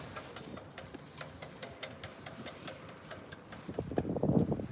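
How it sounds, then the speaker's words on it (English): A neighbouring moored boat's mast clanks and ticks at a Wroxham boat yard, irregular metallic taps repeating every fraction of a second at moderate distance, with a louder rattling burst near the end. "That noise you can hear is the mast on the boat next to me."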